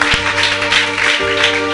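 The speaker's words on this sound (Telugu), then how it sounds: "గట్టిగా చప్పట్లు కొడదాం" A church congregation claps loudly and continuously in a dense wash of applause, with a low hum underneath throughout.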